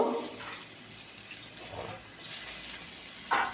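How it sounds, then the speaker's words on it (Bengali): Bitter gourd pieces fry in hot oil in a kadai, giving a continuous, close sizzling hiss with slight surges and a brief louder burst near the end, no voices. "কড়াইতে দিয়ে তেল দিয়েছি প্রথমে উচ্ছেগুলোকে একটু ভেজে নেব"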